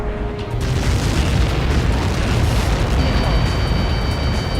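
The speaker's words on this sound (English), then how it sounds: "How many got caught in that explosion?" A massive explosion in the Ace Combat 7 video game, a loud, sustained, roaring rumble that swells after a brief quieter start and holds steady for several seconds, with faint tonal game sounds layered in.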